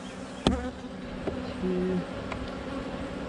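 Honey bees buzz steadily on a frame of capped brood in a weak hive, a low continuous hum with a few brief louder passes, while a voice speaks a word.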